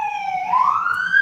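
An emergency siren passes by outside in Chapala. It is heard as a short, fairly loud wailing tone that sweeps upward in pitch over about a second.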